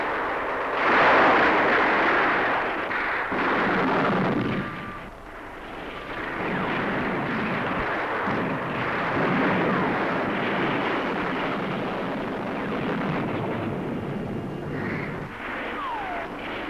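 Artillery fire from a 1971 India–Pakistan war battle, a dense rumbling barrage of booms and roaring blasts with aircraft-like drone, loud and continuous with swells and lulls.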